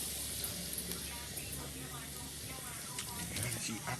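Steady sizzling and hissing of ackee frying in a pot with onion, garlic, scallion, thyme, sweet pepper and okra, a continuous close-up crackle with light stirring, someone talking over it.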